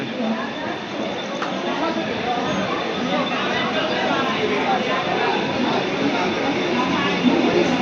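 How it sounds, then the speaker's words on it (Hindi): A Mumbai local train pulls into Chinchpokli station amid a crowded platform, giving a continuous broad rumble and rattle of rail cars under dense crowd noise and a nearby voice speaking throughout. "चिंकपोकली जे छै देखियो ये आबि गेल हँ ट्रेन"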